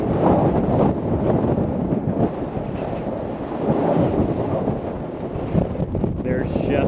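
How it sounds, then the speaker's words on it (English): Strong wind buffets the microphone on Round Bald mountain along the Appalachian Trail, a loud, continuous rumbling roar with gusts throughout. "We're at Round Bald, and it's really windy."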